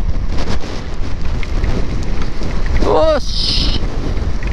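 Storm Emma's hurricane-force wind and rain roar steadily and loudly throughout. A voice briefly exclaims near the end, and a short whistling tone rises through the gusts.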